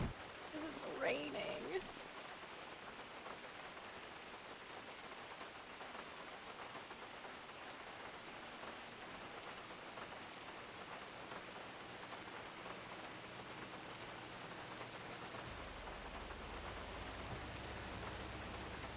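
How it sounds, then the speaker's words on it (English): Steady rain falls throughout a GTA RP game scene, a continuous broadband hiss at moderate level, with a brief louder burst near the start and a low rumble joining toward the end. "Because it's raining."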